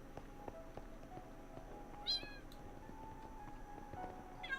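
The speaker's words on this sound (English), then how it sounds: "there's just an army of cats marching towards me" Minecraft cats meowing in a game world, a couple of clear, high, faint mews over a quiet background with soft game tones, one midway and another at the end.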